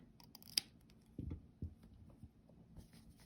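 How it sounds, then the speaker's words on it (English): Scissors trim excess yarn after a crochet color change, a few quiet, close snips in quick succession with small rustles between them, no talking. "we can go ahead and trim the excess here"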